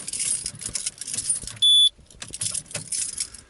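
Metal car key slid in and out of a graphite-lubricated door or ignition lock several times, giving close, small scraping clicks and jingles, with a short electronic tone partway through.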